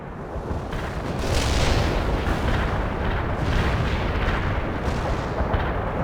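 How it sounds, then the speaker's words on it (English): An artillery barrage in the video game World in Conflict, a loud, dense roll of overlapping booms and rumbling blasts that never lets up. "Commencing the barrage. They're attacking again. Keep those shells coming"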